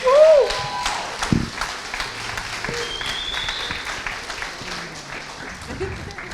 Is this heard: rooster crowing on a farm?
no